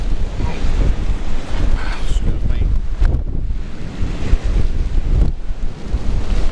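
Strong wind blowing while fishing at the coast at Hornsea, a loud, gusty roar buffeting the microphone with surf-like rumble underneath, continuous and close throughout.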